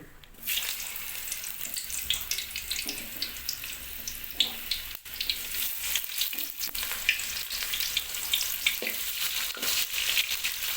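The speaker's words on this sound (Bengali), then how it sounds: "আমাদের অয়েল গরম হয়ে গেছে, এবার আমরা পেঁয়াজ দিয়ে নিচ্ছি।" Onions sizzling and frying in hot oil in a kadai, a steady bright crackle with occasional stirring clicks, close and continuous with no talking.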